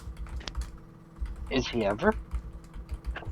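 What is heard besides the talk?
typing on a computer keyboard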